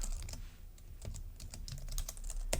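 Keys clatter on a computer keyboard as code is typed, a quick irregular run of close, crisp clicks with short pauses between bursts.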